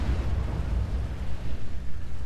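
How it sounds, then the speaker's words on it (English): A loud, deep explosion booms and rumbles in the 2013 SimCity city-building game, a continuous roaring blast filling the whole short moment with no talk. "Oh, here's that explosion, by the way."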